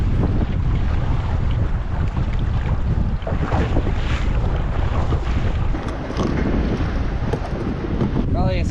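Heavy wind roars and buffets the microphone on a boat out fishing for white bass near rocky shore, with water sloshing beneath a loud, continuous rush, and a voice speaks intermittently.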